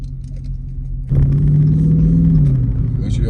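A widebody Dodge Scat Pack rumbles at idle, then a blip of throttle lifts it to a louder, steady growl that settles back down, heard up close inside the car.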